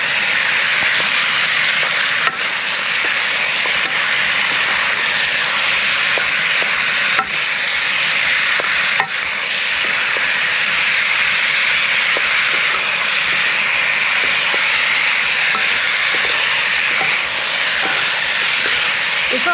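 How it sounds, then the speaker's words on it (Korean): Spicy dakgalbi with rice cakes in a gochujang and sugar sauce is stirred and fried in a pan, giving a loud, steady sizzle with occasional utensil clacks against the pan throughout. "이걸 자꾸 뒤적뒤적 해줘야지 이 양념에 고추장, 대리장, 그 다음에 설탕 이런 게 들어가기 때문에 그냥 놔두면 탑니다."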